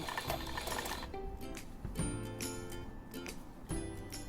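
A sewing machine stitches a curved seam in fabric, a quick mechanical whirring and ticking that starts and stops in short bursts as the fabric is turned, close and fairly quiet.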